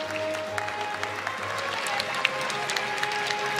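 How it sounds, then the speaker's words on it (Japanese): An audience applauds steadily after the women's featherweight final at the 2022 All-Japan boxing championship, with dense arena clapping at moderate volume and a scattering of sharper individual claps throughout. "今拍手を送っていらっしゃいます"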